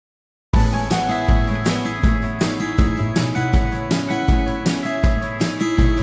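A music mix plays back in mid-only form, with its side content removed, after half a second of silence. A steady beat with strong low punches runs at an even tempo and fills the rest of the clip, loud and close.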